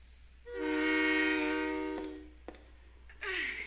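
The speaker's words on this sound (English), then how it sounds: "you heard that little train horn there? It's not just for show." A subway train horn sounds in the Silent Hill 3 video game, one sustained tonal blast of about a second and a half that fades out, followed by a short clank and a burst of rumbling noise.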